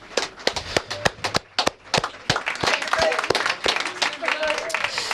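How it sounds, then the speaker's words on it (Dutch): An audience claps for the team at a live broadcast event, beginning as scattered, separate sharp claps and thickening into denser, continuous applause, with some voices mixed in. "Eventjes allemaal een groot applaus voor het team."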